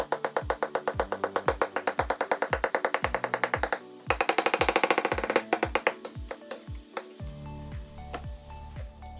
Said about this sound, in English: I start chopping up the apple pie into bite-sized pieces.